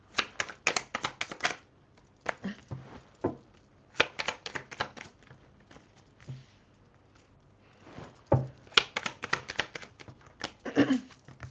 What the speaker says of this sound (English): So let's pull these cards for you.